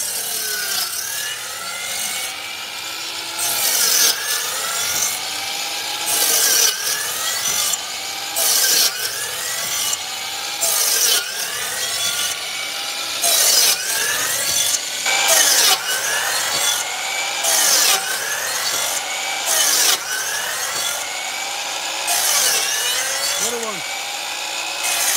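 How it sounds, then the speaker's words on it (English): Saw blade cutting a shoulder cut in dry wood during an on-site base installation in Fuquay, North Carolina: repeated rasping back-and-forth strokes, steady and close, running continuously for the length of the clip. "If you guys can tell on the audio there, either that wood's nice and dry or that blade's getting dull."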